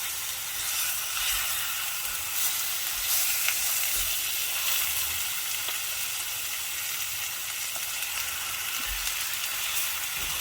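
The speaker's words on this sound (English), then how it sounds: "I'm gonna start browning the meat." Chicken browning in a very hot pan, a steady, close sizzle and crackle of frying that holds evenly throughout, with a few soft bumps and no talking.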